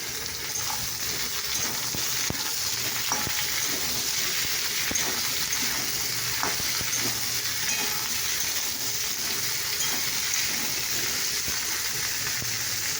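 Onion, ridge gourd and potato fry in a pan with a steady, close sizzle throughout, broken by scattered stirring clicks and small scrapes; no one talks.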